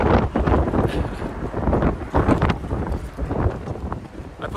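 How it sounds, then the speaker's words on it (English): Strong, blustery winter wind on the Appalachian Trail buffets the microphone in continuous rumbling gusts that swell and ease, loud and close throughout. "That's the gusts I'm talking about."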